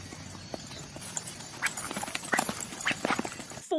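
Horse hooves clip-clop unevenly during horseback riding, moderately close, with scattered irregular footfalls over a soft background and a brief sharp noise at the very end.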